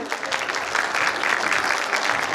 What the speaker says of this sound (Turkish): Çocuklarımıza Dediğim gibi kocaman bir alkış alalım.